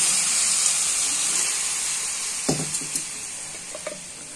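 Mixed vegetables sizzle in a pan after a little water is added, producing a steady hiss of steam and frying with a few soft clinks and stirring knocks near the end.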